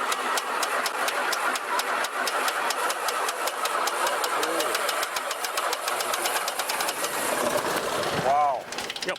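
A 1949 V-Tail Bonanza's aircraft engine, started with a jumper, cranks and fires in loud, rapid, uneven pulses, with a sharp change near the end.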